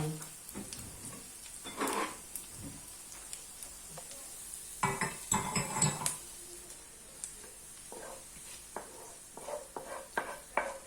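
Glazed onion being scraped out of a frying pan with a utensil: intermittent close scrapes and clinks against the pan over a soft sizzle, with no talk.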